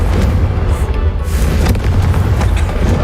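A deep, rumbling boom from the Confringo fire spell in the Hogwarts Legacy video game rolls on loudly without a break for the whole stretch, a dense low roar with crackling on top.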